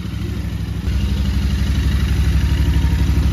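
A custom Royal Enfield Interceptor 650 fitted with a new Red Rooster exhaust idles close by, its rhythmic thumping pulses steady and loud, stepping up in level just under a second in.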